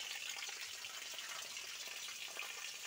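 Water streams steadily from a cut-off old heating pipe leaking in a basement shelter, a constant faint hiss and splash with no voices.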